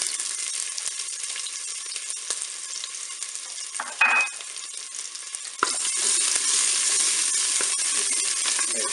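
Garlic and shallot frying in hot olive oil inside a Cookeo multicooker pot make a continuous bright hiss with a small clatter near the middle, then the sizzle jumps louder and holds steady.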